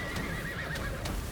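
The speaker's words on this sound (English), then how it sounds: "The next one is the horses." Horses whinnying from the Summoner class skill in the video game Lost Ark, with three shrill neighs layered over a dense bed of game effects and hoofbeat-like clatter, all steady and fairly loud.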